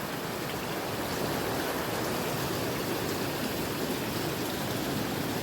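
A wide river flows steadily past a farm property with no rapids, giving an even, continuous wash of water that stays close and moderately loud throughout with no talking.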